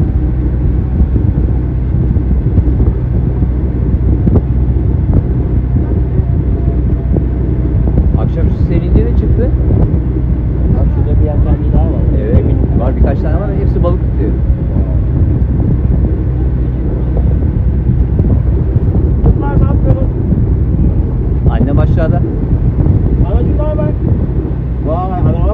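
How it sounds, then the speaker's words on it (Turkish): Strong wind blows across the microphone aboard a sailing boat under repair, a constant loud roaring rush with people talking over it throughout. "Bu bambaşka bir rüzgar."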